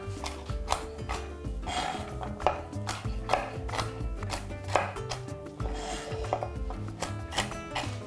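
A knife chops walnuts coarsely on a wooden cutting board. The close, crisp knocks come in a steady rhythm, with occasional louder strikes, over a quiet background.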